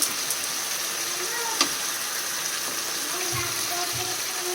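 Tamarind extract poured into a cooking pan over sizzling tomatoes for a gravy, giving a steady broad hiss of frying liquid with a few faint clinks throughout.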